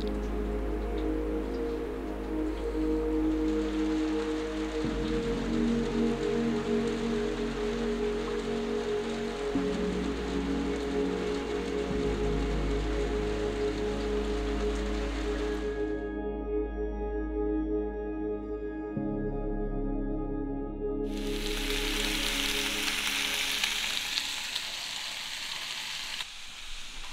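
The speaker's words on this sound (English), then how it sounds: "Into the rain we go." Rain falls steadily around a backcountry hut in winter on New Zealand's South Island, a dense, even hiss like sizzling that continues throughout with no voices.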